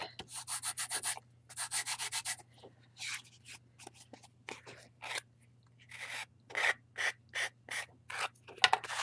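A wooden egg shape is sanded smooth by hand, giving bursts of close, raspy rubbing strokes in quick rhythmic runs separated by short pauses, with a faint steady hum underneath.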